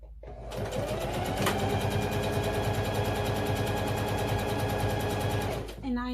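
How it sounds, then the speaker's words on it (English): Sewing machine stitching a cotton-backed lap blanket, a fast, steady mechanical chatter running close and continuous for several seconds before stopping abruptly. "I am sewing with the cotton on the bottom just to help it move"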